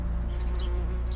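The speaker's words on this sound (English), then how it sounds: "Around the veg patch, countless adult wasps are emerging." Adult wasps buzz around a vegetable patch on a warm spring day, a steady close insect drone with a few higher whines drifting past over a low continuous hum.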